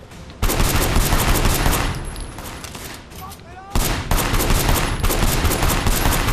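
Gunfire in the open-world action game Sleeping Dogs: dense, loud volleys of rapid shots fill the scene, with a short lull before another burst of sustained firing.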